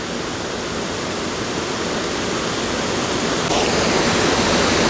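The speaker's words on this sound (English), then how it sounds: "here you can see the second waterfall coming off to the right there" A waterfall on a cold New Hampshire brook pours in a dense, steady broadband rush, loud and close, swelling slightly toward the end with no voices over it.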